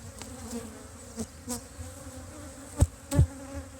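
Honey bees buzzing around an open hive during a frame inspection, a close, steady drone with individual bees whizzing past and a few soft knocks from handling frames.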